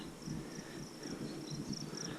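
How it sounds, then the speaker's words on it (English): Crickets chirp in a grassy garden with clover, a faint, high, rapid trill that repeats in short pulses against quiet background noise. "the crickets are out in full force"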